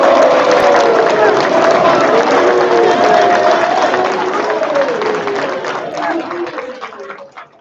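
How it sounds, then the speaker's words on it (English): A crowd at a graduation ceremony claps and cheers in a dense burst of applause that slowly fades out near the end. "round of applause."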